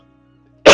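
A man with a cold lets out one sudden, loud, close cough after near silence.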